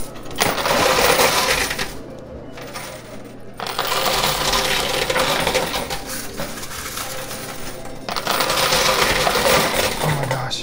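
Bursts of coins clattering and cascading in a high-limit coin pusher arcade machine, three loud dense waves of metallic jingling separated by brief lulls, with faint background hum.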